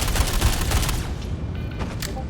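Killshot assault rifle firing in Star Citizen, a rapid burst of loud close gunshots in the first second, then tapering into softer scattered shots and a lingering echoey tail.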